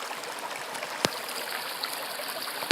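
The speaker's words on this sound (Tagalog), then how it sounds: "Dito sa sapa na" A creek flows in a steady broadband rush of water, close and continuous, with one sharp knock partway through.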